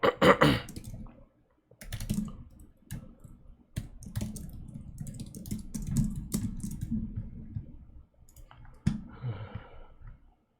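Typing on a computer keyboard during a competitive coding session, with bursts of close clicking keystrokes separated by short pauses, heard alone without talk.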